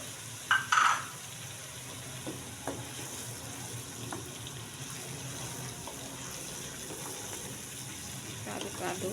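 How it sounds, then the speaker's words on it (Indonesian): Ground chili paste of large and curly chilies sautéing and being stirred in a pan, a soft continuous sizzle with faint scrapes and light clinks, quiet and close, with a brief louder clatter near the start. "Kita aduk-aduk. Kita tumis sampai bumbunya matang ya, sampai harum."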